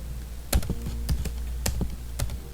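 Steady typing on a computer keyboard, a close run of crisp key taps with uneven rhythm and a few louder strokes over faint background hum, with no talk.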